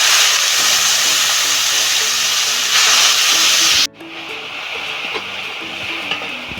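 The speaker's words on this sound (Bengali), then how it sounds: "আর এখানে আমি যে জলটা ঢেলে রেখেছিলাম একটু দিয়ে দিচ্ছি তেলের মধ্যে" Water is poured into hot oil in a pan while cooking a soybean recipe, giving a loud, harsh hissing sizzle that cuts off abruptly and settles into a quieter steady frying.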